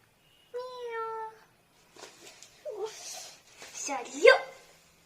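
A human voice imitates a cat with a drawn-out meow, performed as a character from Vaikom Muhammad Basheer's story, followed by spoken talk.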